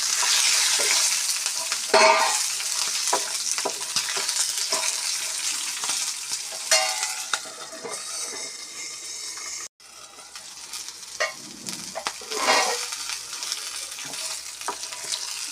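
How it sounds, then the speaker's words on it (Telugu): Cumin and spices fry in a kadai, with a steady sizzle and crackle broken by repeated scraping stirs of a spoon against the pan, close and fairly loud throughout. "అన్నీ బ్రౌన్ కలర్ వచ్చేంత ఫ్రై చేసుకొని దించేసుకోవాలి"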